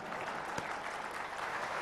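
An audience claps continuously in applause at a live session, dense and steady, with no speech over it.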